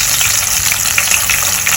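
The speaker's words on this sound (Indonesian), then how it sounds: "Udah panas nih ya, kita cemplungin bebek yang diungkep tadi." Braised duck pieces dropped into hot frying oil, giving a loud, dense, steady sizzle with crackling pops throughout, close up and with no talking.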